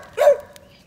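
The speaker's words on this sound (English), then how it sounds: "sorry about the dogs barking" On a homestead, a dog lets out a single short bark close by. It is sharp and brief, then fades into quiet.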